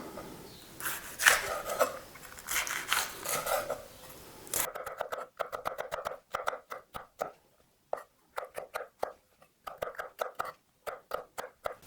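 Rapid, close knife chopping of a bell pepper on a board: a dense flurry at first, then a quick rhythmic series of sharp taps with brief pauses.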